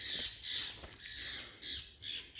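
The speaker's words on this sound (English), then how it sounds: "And you hear the birds in the background." Birds squawk repeatedly in harsh, scratchy bursts, several calls in quick succession, moderately distant and fairly faint.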